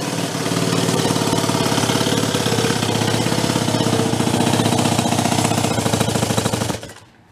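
An old motorcycle engine runs loud and rough on only one cylinder, with a harsh, rapid, uneven chugging. It cuts out abruptly near the end.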